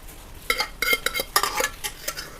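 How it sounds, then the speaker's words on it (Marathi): Cooked chickpeas tipped into a kadhai of spiced masala and stirred, with metallic spoon scrapes and clanks against the pan in irregular bursts and a faint sizzle, no voices. "ते आपण आता कढईमध्ये सगळे ओतून घेणार आहे।"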